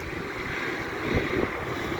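Outdoor wind blows steadily through a yard full of fallen autumn leaves, a soft continuous rushing gust with a slight swell near the middle, no voices.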